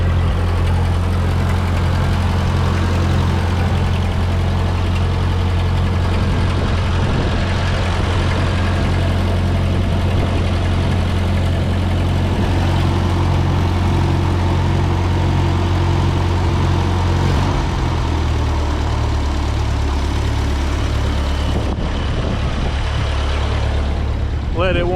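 An old tractor, a Ford 2N or Farmall M, idles right after a cold start on a ranch, its engine a loud, constant low chugging throb that steadies and drops slightly in pitch partway through.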